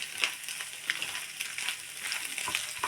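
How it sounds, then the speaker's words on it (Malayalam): Finely chopped okra for a Kerala-style thoran sizzles and crackles in a pan as it is stirred, a soft, steady frying hiss with small pops and scraping strokes, heard up close and without talk. "പിന്നെ വെണ്ടക്കായ ചെറുതായി അരിഞ്ഞത് അതിലിടാം നന്നായി മിക്സ് ആക്കിയിട്ട്"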